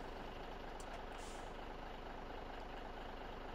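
A vehicle drives in the farming game Landwirtschafts-Simulator 17 with a steady, low engine drone, faint and continuous, and a brief hiss near the start; no one speaks.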